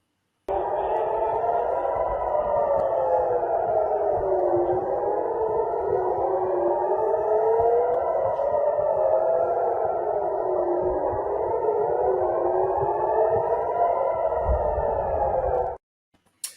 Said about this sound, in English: you'll hear the sound of red alert sirens